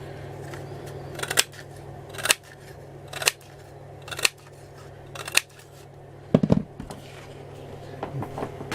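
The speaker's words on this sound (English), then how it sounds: "I'm going to punch out some branches." A handheld paper punch snaps through scraps of green A4 paper, making sharp, crisp clacks at roughly one-second intervals against a quiet room background.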